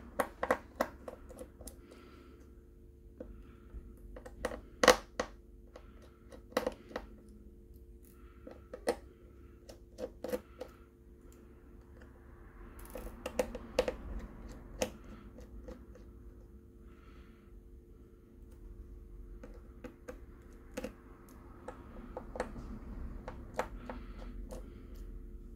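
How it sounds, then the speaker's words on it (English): Small screws removed from the charging board of a Motorola Android One phone with a screwdriver: sparse, faint, close ticks and clicks scattered over a quiet hum, with no talking. "So remove those screws."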